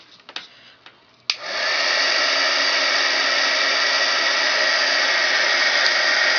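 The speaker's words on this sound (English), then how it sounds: "we're going to take a heat tool and melt that" A heat tool blows hot air to melt UTEE embossing powder over a flocked surface, starting with a click after a few soft handling sounds and then holding a loud, steady, even whoosh to the end.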